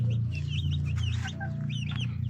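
Bantam chickens clucking in a run of short, chirpy calls close by, over a steady low hum with no talk.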